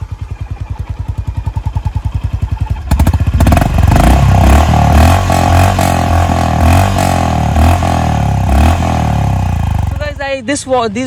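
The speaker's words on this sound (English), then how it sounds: "let's listen to the exhaust note of the Honda CB350 RS." A 2021 Honda CB350 RS motorcycle engine idles with a steady, loping thump, then revs up into a loud, sustained roar that rises and falls before easing off.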